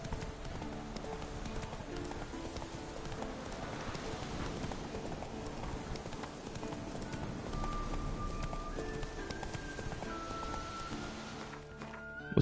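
Roach, the horse in the Witcher 3 video game, gallops along in a steady rhythmic clip-clop of hooves beneath game music and battle ambience, moderately loud throughout.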